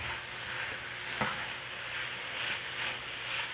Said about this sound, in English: We're going to get this all stirred up.